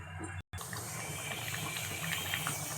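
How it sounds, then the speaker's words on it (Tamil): Dal and greens kootu bubbles in a pot at a steady boil, a close, continuous watery hiss and simmer broken by a brief dropout near the start. "நல்லா கொதிச்சு வரட்டும்."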